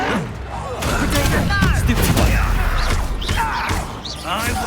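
The Expelliarmus spell is cast in Hogwarts Legacy amid a loud, crackling magic duel with thumping impacts and whooshing bursts, while voices shout over the fight.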